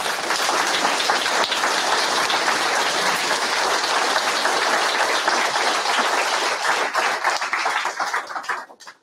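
An audience at a live event applauds loudly and steadily for several seconds as a dense, even wash of clapping, which thins out and fades away at the end.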